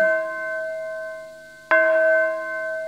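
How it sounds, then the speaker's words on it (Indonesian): A single church bell strike at a Sunday service rings out with a bright, sustained metallic tone over an already humming resonance, decaying slowly. "Sangar kata lonceng"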